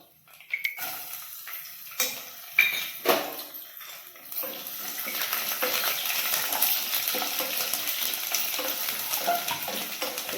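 Garlic cloves and dried red chillies hit hot oil in a pan, first a few clinks and clatters, then a steady close sizzle that builds and holds.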